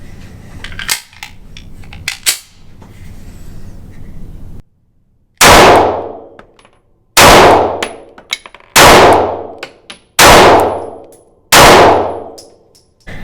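A Springfield Hellcat pistol fitted with a Sig Sauer Romeo Zero red dot fires five loud, sharp shots at a range, each followed by a ringing metallic clang and decay, spaced about a second and a half apart after some quieter handling noise.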